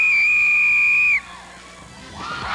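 A referee's whistle gives one loud, sustained blast lasting about a second to start a football penalty shootout, with crowd noise and shouting rising afterward.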